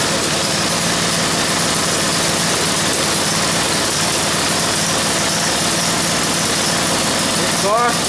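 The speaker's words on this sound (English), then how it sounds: "the smoke is pretty much cleared away and she's idling pretty good" A 1978 Ariens Fairway riding tractor's engine idles steadily and loud throughout, a continuous even running drone just after a carburetor change, with a brief higher noise near the end.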